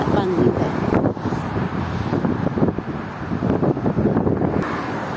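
Strong wind on a roadside walk buffets the microphone with a loud, continuous rumbling roar that swells and dips throughout, and no clear speech is heard.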